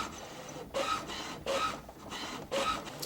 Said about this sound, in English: As you can see, we're printing out what we're gonna scan in, just like any other printer.